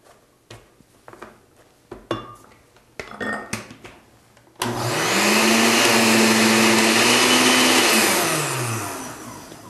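Clattering and knocking of chopped red onion being loaded and pushed down, then a loud blender roars steadily for several seconds, its motor pitch shifting as the contents churn.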